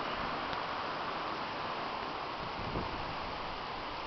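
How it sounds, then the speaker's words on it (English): Hurricane Gustav wind drives a steady, broad roar of rustling through a row of trees, sustained and fairly even over several seconds with a slight swell as a big gust builds. "Oh, here we go, big gust."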